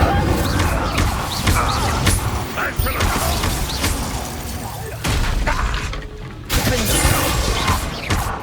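Incendio fire spell cast in Hogwarts Legacy, a loud burst of crackling, crashing magical effects with sharp cracks and rumbling impacts running continuously through the scene amid other combat noise.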